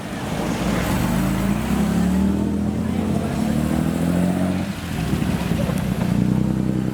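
Vintage cars, including an Alvis, rev their engines as they pass along a road during a car show: throaty engine rumble rising and falling, with people talking over it.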